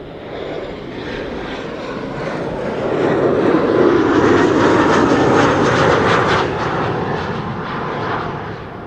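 A Delta Air Lines Airbus A330 airliner arriving, its broad engine roar swelling to a loud peak midway and easing off slightly, steady and continuous with no voices.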